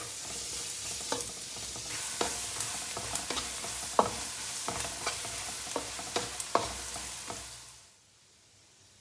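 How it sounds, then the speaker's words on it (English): Garlic fries to golden brown in hot oil with a continuous close sizzle punctuated by repeated spatula taps and scrapes, fading out abruptly just before the end. "Fry until golden brown, and I will add the garlic inside."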